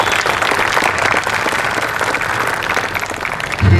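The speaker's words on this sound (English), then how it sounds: "Let us all give Dr. Roxy a big round of applause for this outstanding recognition." At an Independence Day address at IITM, the audience applauds Dr. Roxy with sustained, dense clapping that is loud and fills the hall. A low thump sounds near the end.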